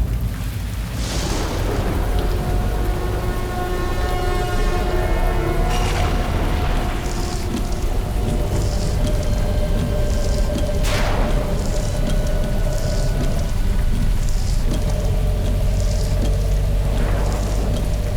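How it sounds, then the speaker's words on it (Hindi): A steady, loud roar of heavy rain fills the whole stretch, with ringing tones and occasional low booms layered over it. "कितनी जोर की बारिश हो रही है।"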